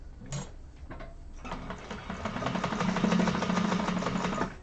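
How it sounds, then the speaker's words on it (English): A sewing machine runs steadily while stitching a Cassia satchel, its needle clattering in a fast even rhythm that builds slightly in loudness, close and alone without talk. "I am going to just backstitch quite a few times just to make sure that that's nice and secure"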